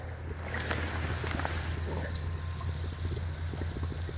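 Water bubbles up through a hole cut in ice, a continuous gurgling and churning wash with steady low rumble and hiss, fairly loud and close, without any voices.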